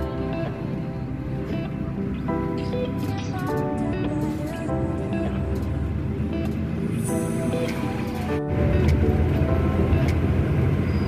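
Inside an overnight bus travelling from Jakarta to Denpasar near midnight, a steady loud engine and road rumble drones throughout, with faint chatter and music-like tones on board and a brief dropout before the noise swells slightly.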